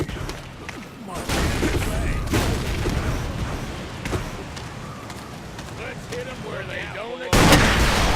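Gunfire in the blocky shooter game Ace of Spades: loud, sharp shots crack out in separate bursts at the start and a heavy blast near the end, over a constant busy game din with voices faintly present.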